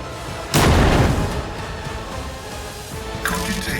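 A frag grenade blows up in the Rogue Trader video game as one sudden loud, booming blast that decays over about a second. A second, smaller impact follows near the end over a low rumbling background.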